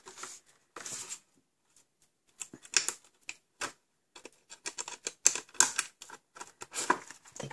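Folded paper flaps click and crack shut in quick irregular bursts, sharp and close, separated by brief silent pauses.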